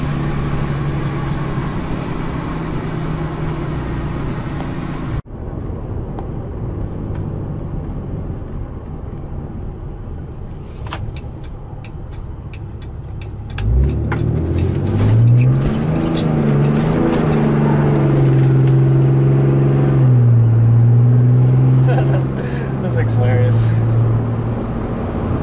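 A Cummins diesel pickup truck with a billet valve body and fourth-gen tuning idles with a low rumble. Midway it revs and drives off in a loud, rising and falling engine roar. A brief thump and a few clicks come early on.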